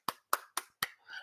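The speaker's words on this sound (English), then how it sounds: "I'm clapping for myself" One person clapping their hands during a live chat celebration, four sharp, close claps spaced evenly apart, followed by a softer trailing sound.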